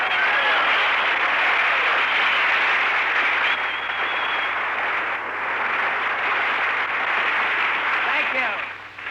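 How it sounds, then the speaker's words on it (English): Sustained, loud applause from an audience at Torney Hospital in Palm Springs fills the whole stretch, dense and continuous, with a voice briefly audible over the clapping. "Clap them hands. Stir up some air."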